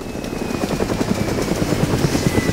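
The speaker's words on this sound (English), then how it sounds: "Here, there's a helicopter!" Helicopter in the video game DayZ passing overhead, a steady rhythmic rotor chop with a faint high whine, holding level and fairly loud throughout with no talk.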